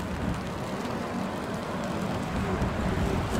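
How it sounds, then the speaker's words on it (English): Rain falls outdoors as a steady, dense hiss of drops without letup, close to the microphone and moderately loud. "Out here raining."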